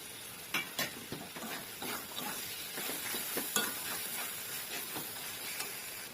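Tomatoes and chilli spice paste fry in oil in a pan for dhaba-style dal tadka, giving a steady close sizzle. Scraping stir strokes break through at irregular intervals.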